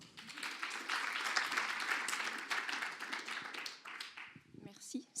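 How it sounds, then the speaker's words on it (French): Moderate clapping from an event audience at a startup competition final, steady for several seconds and then thinning out before a voice begins speaking. "Je vous prie de l'applaudir."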